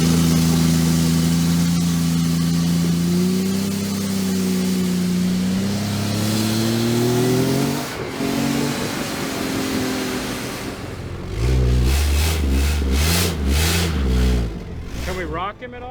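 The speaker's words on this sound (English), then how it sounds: "Jeep is sounding extremely weird all of a sudden" Offroad Jeep engine on a rough Utah trail revving and droning unevenly with shifting pitch, loud and close, later surging in repeated bursts while people talk over it.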